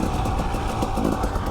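A 2019 Husqvarna TE300i dirt bike engine runs steadily and close, a continuous mid-pitched drone with slight rises, with no clear shift click standing out.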